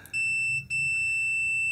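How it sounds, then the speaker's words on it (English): A continuity tester gives a high electronic beep while testing the shield and tip connections of a solderless guitar cable plug. Two steady tones come in quick succession and stand alone with no talking. "So you should get a beep if you're connected."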